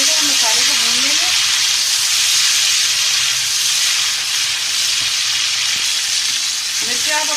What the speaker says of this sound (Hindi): अभी सब डालने के बाद अच्छी तरीके से हम मसाले को भून लेंगे।